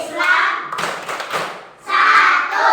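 A group of children in a classroom clap rhythmically through the tepuk rukun Islam chant, steady hand claps and thumps mixed with young voices close by, pausing briefly before resuming.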